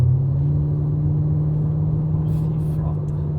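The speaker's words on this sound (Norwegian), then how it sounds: "Hører vi jo brumminga bak da." A Chevrolet Camaro SS V8 drones steadily while cruising on the E6 motorway at about 75 km/h, a deep, even engine rumble heard from inside the car.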